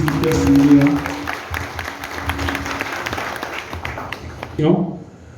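An audience claps at a community forum on accessibility and development in Camp-Perrin's third section, Haiti; the applause is steady and dense, with a voice talking over it, then it tapers off near the end.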